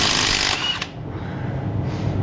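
A hand wrench and ratchet work on a damaged Mack truck engine. Close, harsh mechanical rattling and whirring comes in a brief burst, then drops to a quieter low rumble.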